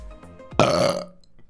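One loud, close belch lasting about half a second, rising abruptly out of quiet background and trailing off.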